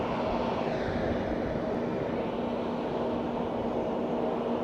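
Korean Air airliner pushing back at Fukuoka airport, a steady engine drone and low rumble with a held tone, distant and continuous.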